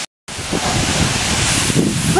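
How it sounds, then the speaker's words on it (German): A waterfall at a climbing crag where a rockfall once occurred, its steady broadband roar rushing loudly and continuously after a brief silent gap at the start, with no talking. "So, wunderschöner Wasserfall."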